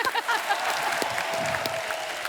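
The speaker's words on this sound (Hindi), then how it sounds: "बहू रानी आई, जोरदार तालियां।" Studio audience on The Kapil Sharma Show breaks into dense, steady applause that fills the whole stretch at an even level, with faint voices mixed in.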